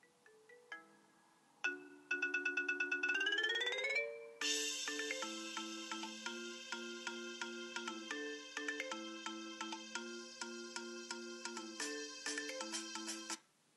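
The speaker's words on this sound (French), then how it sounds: "On va opter pour la toute première marimba" A bright marimba ringtone plays a bouncy, looping melody with a dance-remix beat, clear and close, after a few soft opening notes.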